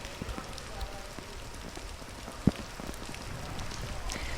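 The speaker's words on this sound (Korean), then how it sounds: "빗줄기가 점점 강해지고 있습니다" Rain falling at Gukdong harbour in Yeosu on a windy day, a steady dense patter with gusting wind noise and one brief sharp knock partway through.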